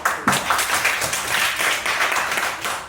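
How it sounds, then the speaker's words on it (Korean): Applause from a classroom of students during a class meeting, a dense burst of many hands clapping that swells quickly and holds steady at close range for about three seconds, with faint voices mixed in. "자, 먼저 박수 한번."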